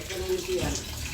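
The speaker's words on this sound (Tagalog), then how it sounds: "Chay, take a shower." A shower runs while a dog is bathed, giving a steady hiss of spraying water up close, with people talking over it.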